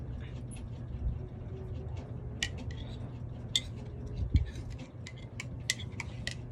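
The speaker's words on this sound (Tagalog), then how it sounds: "Haluin muna natin." A spoon stirs Top Cafe premium coffee in a cup, making faint, quick clinks and ticks against the rim over a low background hum.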